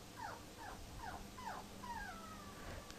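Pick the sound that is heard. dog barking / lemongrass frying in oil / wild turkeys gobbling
dog barking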